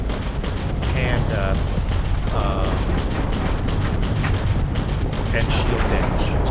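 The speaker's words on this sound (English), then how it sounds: "Occasionally I'm firing a missile." Starfield spaceship combat, with the ship firing missiles and railguns: a loud, unbroken roar of booming blasts and crackling bursts that stack densely on each other throughout, with no pause or quiet moment.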